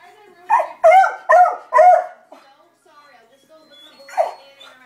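A beagle barks in a frantic burst of four loud, close barks, then falls quiet before a softer final yelp, alarmed by dogs outside.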